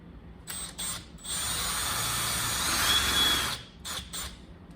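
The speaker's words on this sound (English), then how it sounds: "Got a 1/4 inch drill bit here. We're going to drill the holes." A power drill with a dull 1/4-inch bit whirs steadily for a couple of seconds drilling holes on a Jacobsen Chief 800 lawn tractor, bracketed by short bursts of the motor starting and stopping.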